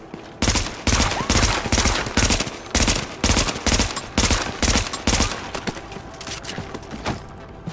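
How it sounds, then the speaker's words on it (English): Burst-fire SMG shots in The Division, a loud regular series of short bursts with brief gaps, repeating steadily for several seconds before thinning out at the end. "That's like a burst SMG"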